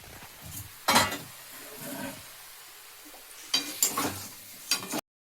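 Mutton fat fries in a pan and is stirred, with a steady sizzle broken by several louder scraping bursts from the stirring.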